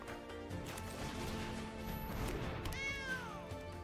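A cartoonish cat meow from the MTG Arena card game as a cat creature is cast, over a bed of game music, with a rising whooshy flourish near the end.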